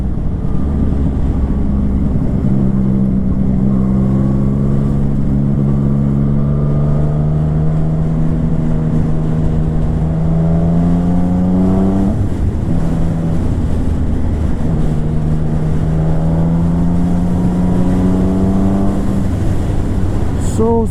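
A Yamaha MT-09 motorcycle accelerates in sixth gear, its engine drone climbing steadily in pitch under constant wind rush. The tone falls back briefly around the middle, then pulls upward again toward the end.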